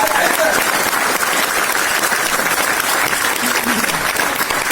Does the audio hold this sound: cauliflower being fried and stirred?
no